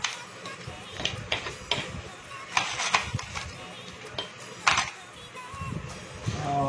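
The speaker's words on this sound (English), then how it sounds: "With a bar spoon you can just mix the crushed ice." Crushed ice stirred with a metal bar spoon in a glass, giving irregular clinking and scraping bursts, close and fairly quiet, with occasional soft noises between strokes.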